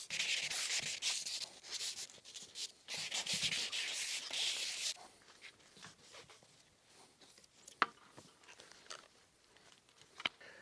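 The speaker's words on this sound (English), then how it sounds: "I'm just going to clean it up with some 400 grit sandpaper and a bit of mineral spirits" A handsaw blade is sanded with 400 grit sandpaper and mineral spirits, giving steady, close back-and-forth rubbing strokes. The strokes are loud and dense for about five seconds, then turn lighter and sparser, with a couple of sharp taps.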